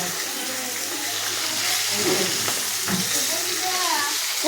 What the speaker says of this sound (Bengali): দেখুন কি সুন্দরভাবে ঢেলে দিচ্ছে মাছগুলোকে